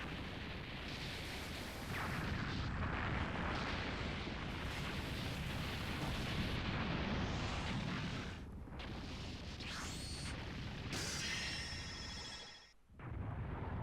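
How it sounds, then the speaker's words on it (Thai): Earth exploding in the video game Dragon Ball Z Kakarot, a long sustained roaring blast with rumbling debris, a brief dip and then bright crackling energy bursts near the end. "นั่นไง โลกระเบิดจริงด้วย"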